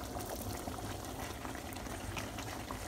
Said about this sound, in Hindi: अब जो पास्ता हमने बॉयल किया है हम उसको इसमें शामिल कर लेते हैं।